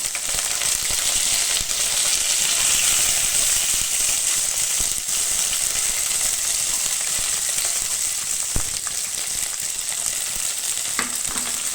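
Small onions and curry leaves fry in hot oil with a loud, continuous hiss. The sizzle stays steady up close, broken near the end by a couple of faint clinks.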